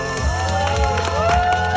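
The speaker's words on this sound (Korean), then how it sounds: "여러분들의 뜨거운 박수가 필요합니다." A lively crowd at a street magic and juggling show cheers and shouts, with whoops and clapping mixed into a loud, continuous wash of voices.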